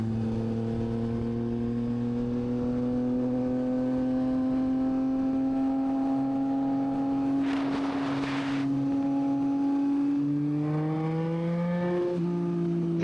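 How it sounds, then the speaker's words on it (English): A tuned car's exhaust note heard from inside while driving slowly through a turn, a steady loud droning hum that rises gradually, with a brief rough burst of crackle midway and a climb in revs near the end. "that exhaust sounds so good."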